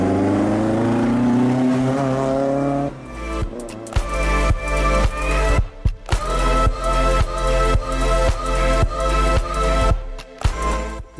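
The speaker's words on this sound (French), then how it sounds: "C'est une voiture de course." A 1972 RS 100 race car engine idles and then revs hard in rapid repeated bursts, each blip snapping off sharply, loud and close, with no talk over it.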